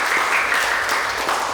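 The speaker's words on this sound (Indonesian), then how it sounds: "Tepuk tangan buat kalian semua." A school sociology class applauds, with brief, steady, close clapping from many hands.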